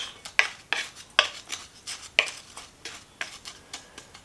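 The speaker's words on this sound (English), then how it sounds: "Stir it up, mix it in there" Dry oatmeal cookie ingredients stirred in a bowl with a utensil, giving a series of close, scraping taps in an uneven rhythm, about one every half second.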